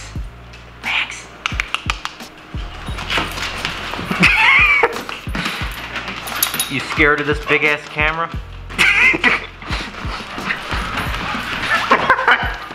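A puppy yips and whimpers in short bursts near a large camera, while people talk over it and loud knocking and handling noises come and go.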